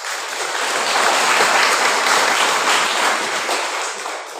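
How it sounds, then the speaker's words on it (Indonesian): Steady, loud applause fills a church at a Catholic Mass as the congregation claps for the choir, a dense wash of many hands swelling then easing slightly toward the end. "Tepuk tangan untuk KOR dulu"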